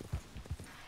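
Horse hooves clip-clopping in Red Dead Redemption 2, a quick run of muffled, low thuds in an uneven trotting rhythm, fairly close and soft.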